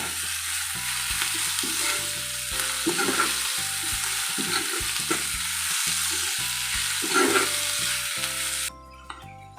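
Sea fenugreek greens with grated coconut and kokum stirred in a hot pan, a loud continuous sizzle broken by repeated scraping spatula strokes, ending abruptly near the close.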